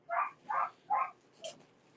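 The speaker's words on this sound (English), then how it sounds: "Sorry for the dog that's barking." Three quick, muffled barks from a dog playing with a stick indoors, followed by a fainter yelp, heard from a moderate distance with no speech.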